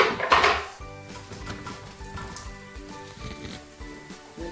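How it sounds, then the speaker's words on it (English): Garlic sizzles in a frying pan while steak and vegetables are cooked, opening with a brief clatter of cookware and then settling into a steady, moderate hiss. "So now I'm going to add garlic into the pan."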